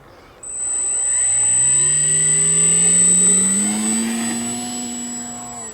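The electric motor of an FMS J-3 Piper Cub V4 model airplane spooling up for takeoff: a loud, steady, whining buzz with a high propeller tone, rising in pitch, then easing slightly as the plane moves away.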